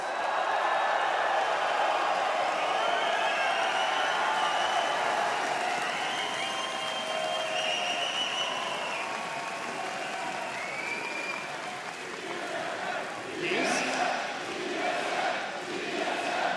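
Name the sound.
crowd cheering and applauding trophy lift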